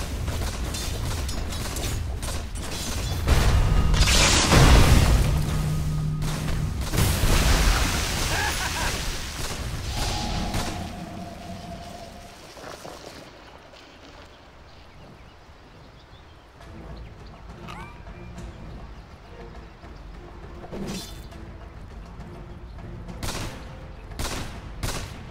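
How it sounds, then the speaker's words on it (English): A Dota 2 tower under attack: loud, dense battle noise of rapid popping blasts and impacts, easing off halfway into quieter scattered hits and a few sharp cracks. "Radiant's middle tower is under attack."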